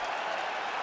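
A stadium crowd in the EA Sports UFC 5 video game roars and applauds at the end of a full 25-minute fight, a dense, steady wash of cheering that fills the whole short moment.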